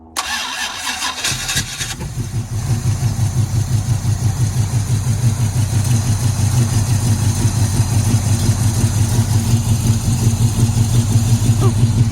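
An Oldsmobile Cutlass, started for the first time in years, cranks for about two seconds, then catches and settles into a loud, steady, throbbing idle that runs on without a break.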